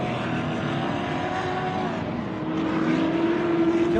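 Off-road race vehicles tear around the MetalCloak Stampede course, engines roaring steadily and loud throughout, with one motor's pitch climbing near the end as it passes close.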